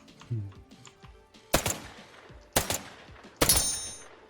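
Three sharp, loud gunshots spaced about a second apart in the online shooter OutlawZ, each a crisp crack over quiet game ambience, with brief faint talk earlier.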